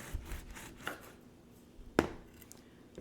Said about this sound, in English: I'm going to give it a little slice here. Oh, it slices so nice.